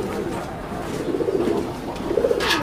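Red Lahore pigeons cooing on a large fancy-pigeon farm in Jhenaidah: soft, low rolling coos repeated a couple of times, close by, partly under a voice and ambient room noise.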